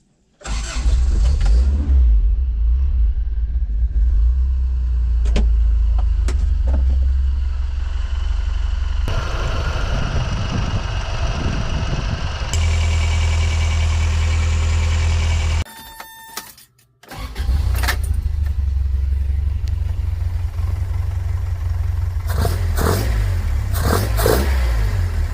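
A rebuilt carbureted 22R engine in a 1986 Toyota pickup starts, then idles loudly with a deep steady rumble and revs up in several surges, briefly cutting out near the end before running again.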